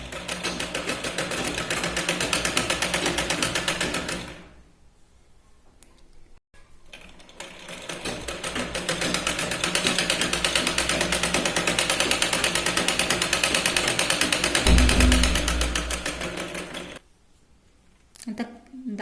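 Sewing machine stitching a katori blouse, running in long steady bursts with brief pauses between, close and loud, with no voices over it.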